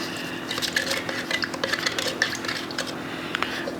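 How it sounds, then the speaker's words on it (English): Oil paint is stirred together with solvent in a container, producing a close run of quick clinks and scraping taps with no talking. "Now let's go ahead and mix that up."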